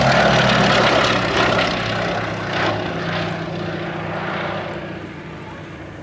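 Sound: WW2 aeroplane engine at an airshow

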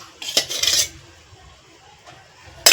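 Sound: pan on gas stove, spooning oil into it

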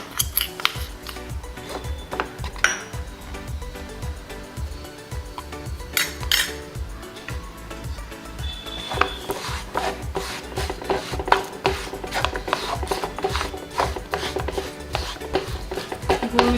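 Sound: jaggery being melted and stirred in a pan

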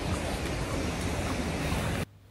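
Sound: water rushing out of a cave like a waterfall

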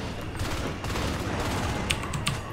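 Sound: gunfire in the video game Natural Selection 2

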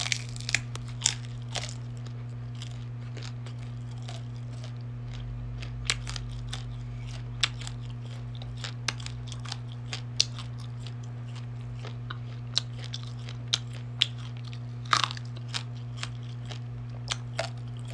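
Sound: biting and chewing grilled quail

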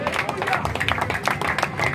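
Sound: church congregation applause

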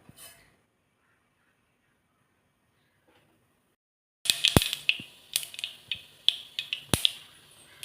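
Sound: mustard seeds popping in hot oil

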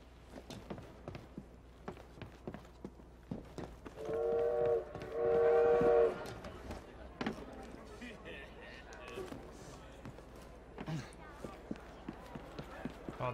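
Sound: train in video game Assassin's Creed Syndicate

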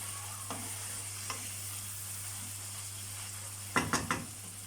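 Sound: minced meat frying and sizzling in a pan

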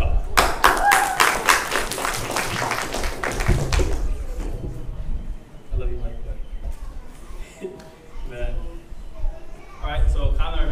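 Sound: congregation clapping hands

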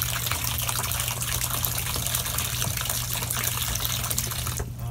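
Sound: water filling a bathtub from the tap

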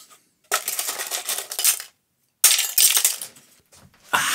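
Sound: guitar picks rattling while being handled

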